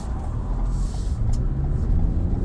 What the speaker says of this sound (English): So start off in the 2021 Toyota RAV4 TRD off-road